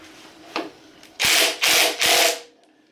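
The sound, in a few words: ratchet turning puller tool bolt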